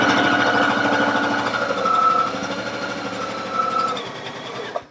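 A Baby Lock Allegro sewing machine stitches custom piping in a fast, steady mechanical whir that runs nearly continuously, slowing slightly midway before stopping abruptly at the end.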